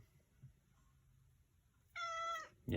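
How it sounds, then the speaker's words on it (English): A cat meows in a quiet room, giving one loud, clear, drawn-out meow nearby, then the start of another sharp call, with faint room noise before. "I gotta get my cat out of the room really quick"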